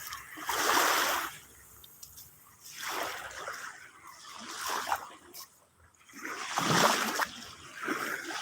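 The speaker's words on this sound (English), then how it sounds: "I love the ocean, the sound of the ocean." Ocean waves on a Boracay Island beach in the morning wash in and recede in slow surges, each swell rising and fading over a few seconds with quieter gaps between.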